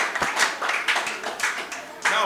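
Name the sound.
applause for quiz team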